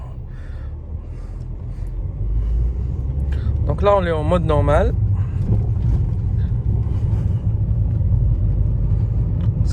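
An Alfa Romeo MiTo on a road test in normal mode, with a steady low engine and road rumble throughout, a brief warbling chirp midway, and someone talking over the drive.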